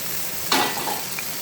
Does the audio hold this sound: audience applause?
no